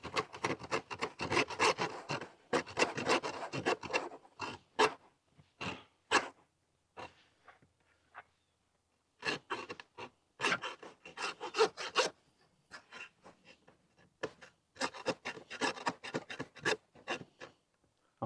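Hand saw rasping back and forth through lamb bone during butchering, in several bursts of rapid strokes with short pauses between, close and fairly loud, with no talking.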